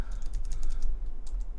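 Rapid typing on a computer keyboard, close and fairly loud, a quick run of key clicks with a brief pause before a few final strokes, no voice present.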